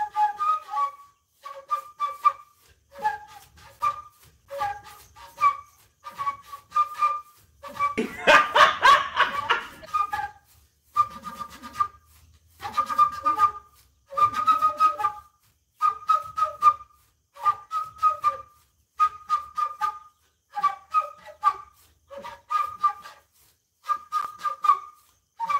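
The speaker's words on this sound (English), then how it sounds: "A whistle for emergency alarm." An emergency alarm whistle blown in many short, evenly spaced shrill blasts, close and fairly loud, with a brief burst of rough noise partway through.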